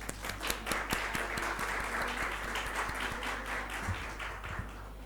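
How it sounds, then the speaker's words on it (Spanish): A seminar audience on women's cancers applauds as a speaker is sent off, a moderate, fairly distant burst of many claps with some sharper individual hits standing out. "la despedimos, ¿ya? Con un fuerte aplauso."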